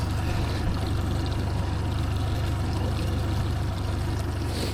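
A Merry Fisher 695 motorboat's engine runs steadily at a low idle while the boat picks up a mooring buoy, giving a loud, continuous rumble with water and wind noise.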